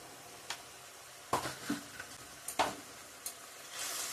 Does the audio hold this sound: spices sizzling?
yes